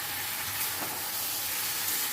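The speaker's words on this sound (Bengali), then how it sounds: "একটু ভাজা ভাজা মতো করে নিলাম" Onion and capsicum fry over a high gas flame in a pan, a steady close sizzling hiss with faint stirring underneath, no voices.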